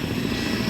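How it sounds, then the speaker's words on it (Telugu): An AirAsia airplane arriving at Langkawi airport produces a steady, loud engine roar with a broad whoosh that fills the brief moment. "ఇప్పుడు ఇంకొక ఎయిర్ ఏషియా ఫ్లైట్ కూడా వచ్చింది చూడండి"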